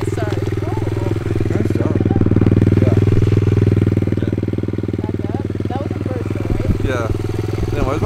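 A dirt bike engine runs at a steady, throbbing idle with a strong low drone and a slight swell in the middle, while people talk over it.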